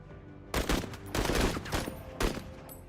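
Video game gunfire in several short bursts of rapid shots, fairly close and moderately loud, with brief pauses between volleys and no voices.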